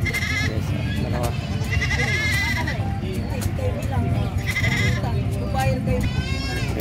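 Goats bleat repeatedly at a busy livestock market in San Carlos, several nearby calls rising over crowd noise while people talk throughout.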